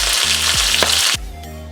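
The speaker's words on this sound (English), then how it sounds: "I've browned the pieces of oxtail." Oxtail pieces sizzle and fry in a pot for Jamaican oxtail stew, a loud steady hiss with a couple of brief clanks from stirring.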